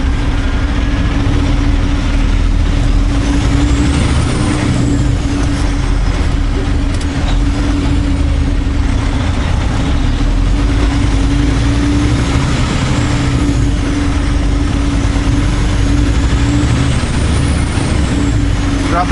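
A truck with trailer turns at a curb in Richmond, Keremeos, BC, its engine droning steadily with a persistent hum, while tires drop off the curb and rub against it beneath the continuous loud engine noise.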